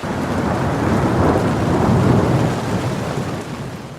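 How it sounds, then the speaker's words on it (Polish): A storm sound effect in a children's story has heavy pouring rain mixed with deep, rolling thunder. It stays loud and dense throughout, then eases slightly at the end. "Nagle ciemno się zrobiło, no i deszczem zakropiło. Chwilę później nawet lało i zmoczyło świnkę całą."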